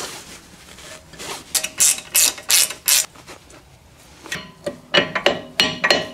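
A ratchet snugs up bolts during a rear brake caliper replacement on a 2012 Mazda 3, with two close, loud bursts of rapid clicking strokes separated by a brief pause.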